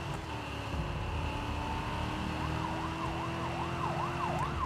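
Wailing police car siren in a driving video game, rising and falling in a steady sweep over a constant engine drone, moderately loud and continuous, with no voices.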